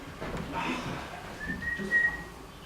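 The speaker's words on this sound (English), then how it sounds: "Don't whistle" A faint, thin whistled note is held steadily for under a second over quiet background noise.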